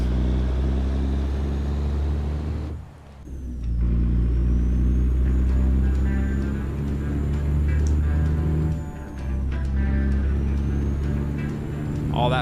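An old Kenworth truck in American Truck Simulator rumbles with a loud, steady low engine drone, broken twice by brief dips as it brakes, with a short hiss of air brakes and faint higher tones above the engine.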